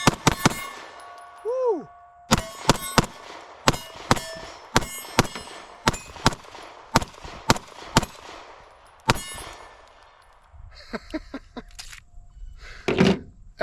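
Springfield Prodigy 2.0 pistol firing a rapid string of sharp, loud shots with ringing steel-target clangs, evenly spaced with brief pauses between, and a shooter exclaiming near the end.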